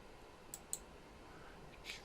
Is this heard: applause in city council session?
no